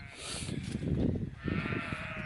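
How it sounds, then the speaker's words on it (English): Sheep bleat on a Welsh hill farm near Mynydd Epynt, a couple of drawn-out wavering calls at moderate distance over steady outdoor background noise. "these sheep, don't they make a noise?"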